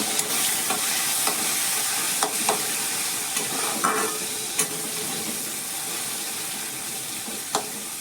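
Long-sliced tomatoes stir-fried in a pan for a brinjal-potato curry, a steady close sizzle with scattered scrapes and taps of a spoon throughout.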